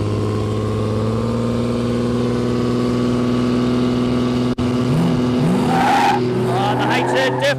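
Drag race launch on a no-prep airstrip, a red Ford Mustang against a red Holden HZ: loud steady engines idle and rumble, then a sharp cut and both cars roar off with rising revs and tire squeal, talk heard over the noise.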